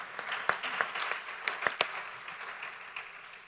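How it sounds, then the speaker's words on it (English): Sparse, scattered clapping from a small audience at an archaeology panel event, with a few distinct sharp claps standing out over a quiet room before fading. "So please give our audience members a round of applause,"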